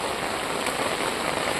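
Heavy rain pours down in the Konkan countryside, a loud unbroken hiss that fills the whole short stretch with no voices over it.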